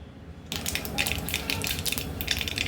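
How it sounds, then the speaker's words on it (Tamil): Mustard seeds sputter in hot oil in a kadai, bursting into a dense run of sharp crackling pops after half a second of quiet, close and steady. "ஒரு கடாயில் எண்ணெய் விட்டுருக்கேங்க எண்ணெய் சூடானதுக்கப்புறம் இதில் கடுகு"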